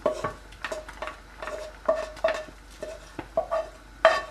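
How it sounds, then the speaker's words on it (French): Pickles, carrots and onions stirred into a pot of boiling Russian rassolnik soup, heard as a series of close spoon clinks and scrapes against the pot with soft bubbling between, no voices. "Maintenant on va rajouter ce qu'on a préparé, donc notre préparation de cornichons, carottes et oignons dedans."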